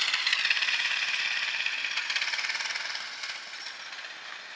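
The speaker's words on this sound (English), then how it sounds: "Here's my daughter driving the go-kart." A small go-kart engine buzzes steadily as the kart drives around a snow track shoveled out after a blizzard, a continuous raspy drone with fluttering pulses that fades slightly as it moves away.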